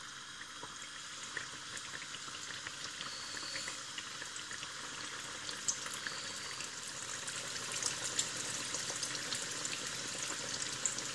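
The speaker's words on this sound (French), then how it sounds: "j'ai mis mon huile à frire, à bouillir. J'ai mis mes nems." Seafood nems deep-frying in hot oil, a dense continuous bubbling sizzle with crackling pops that holds steady and grows slightly busier toward the end, close and without talk.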